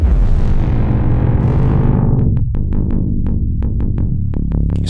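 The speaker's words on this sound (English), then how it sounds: "Get some nice dissonant or low percussive sounds." Dissonant percussive hits from a waveguide mesh effect on a TipTop Audio Z DSP modular module, a loud smeared metallic wash decaying into a rapid series of sharp clangy strikes over a low rumbling drone.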